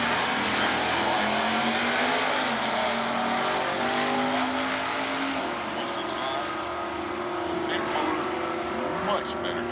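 Stock eliminator drag race cars idle and rev at the starting line at an NHRA divisional event in Atlanta, a steady loud engine drone with shifting pitch, heard from a distance under crowd and announcer noise.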